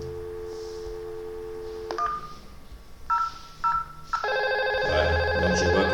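A desk telephone in a network lab sends a quick series of keypad dialing tones for extension 1000, then a steady ringback tone sounds on the line, loud and close.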